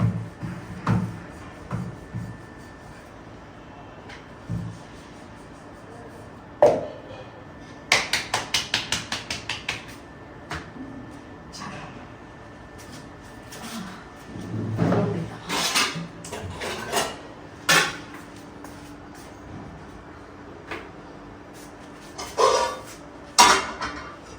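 Pomegranate seed and onion chutney pounded with a wooden stick, irregular sharp knocks and a quick run of rhythmic thuds among clattering utensils, with intermittent talk in the background.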